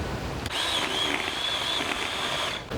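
Close whirring of a Ryobi cordless chainsaw labouring on an overheated battery: a sustained high-pitched motor drone after a short start, fading off at the end.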